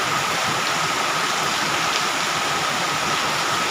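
Heavy monsoon rain pours down steadily in a dense, even hiss that fills the whole stretch without a break, loud and close, with no voices over it.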